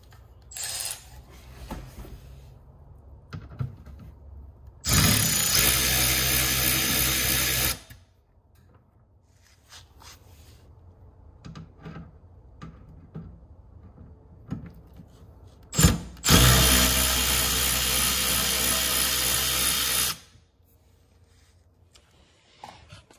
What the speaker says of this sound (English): So we're gonna hit that with the ratchet.